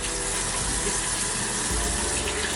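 Tap water runs steadily into a bathroom sink while someone rinses their face by hand during a morning skincare routine, a continuous loud splashing gush with no talking.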